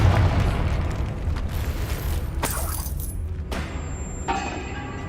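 Explosive spell blasts in Hogwarts Legacy, a dense rumbling boom sustained through the whole stretch with sharp bright bursts cracking out near the middle and again toward the end, loud and close with no talk.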